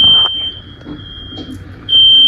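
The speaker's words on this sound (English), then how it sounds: "We set the smoke alarm off." A household smoke alarm sounds a loud, steady high-pitched tone that cuts out briefly near the start, continues more softly under room noise, then returns at full strength.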